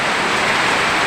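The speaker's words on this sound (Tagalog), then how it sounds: "Ayan, ang lakas-lakas ng ulan." Heavy storm rain in Nueva Ecija pours down in a dense, steady, loud hiss with no breaks, close by and with no voices over it.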